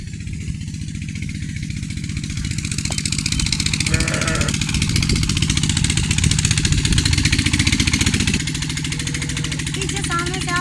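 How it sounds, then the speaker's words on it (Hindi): Tubewell pump engine running steadily nearby in a rural farmyard, a continuous chugging drone throughout, with someone talking over it. "ट्यूबवेल चल रहा होगा, ट्यूबवेल की काफी आवाज होगी।"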